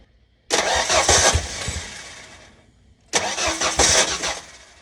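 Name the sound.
car engine cranking and starting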